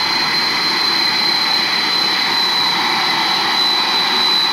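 Jet engines of an Air China airliner just after landing at Hong Kong on a wet runway in a thunderstorm, a loud, steady roar with a high whine, close and constant throughout.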